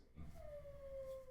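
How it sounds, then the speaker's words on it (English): A dog howls in one long, steady, wavering tone that sinks slowly in pitch, faint and distant over a low background rumble. "Listen to this dog."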